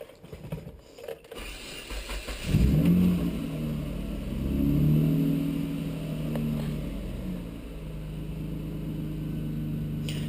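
A car engine starts and then idles steadily with a deep, rumbling hum, rising briefly before settling into an even drone nearby.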